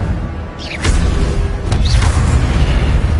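In Hogwarts Legacy, inside the Restricted Library, an Incendio fire spell erupts with a deep, loud whooshing boom that rolls into a sustained roaring rumble, plus a couple of brief swishing sweeps.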